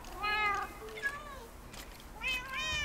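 Cats in the Minecraft video game meow several times, with clear harmonic cries at the start and end and a softer one in the middle, close and fairly loud, with a voice briefly speaking between them.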